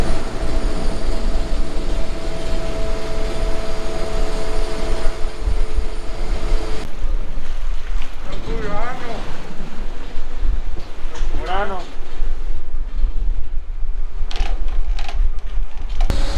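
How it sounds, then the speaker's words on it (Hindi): Ferry engine drones loud and steady while pulling away from a stop at Murano in Venice, with water wash and wind. The hum drops partway through, then brief tonal whistles and a faint voice come through. "और ये फेरी अगली मंजिल की तरफ रवाना हो गई है।"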